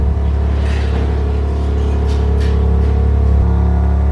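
BMW M4 G82 fitted with a titanium exhaust rolls into a shop, giving a loud, steady low exhaust drone and rumble at low speed.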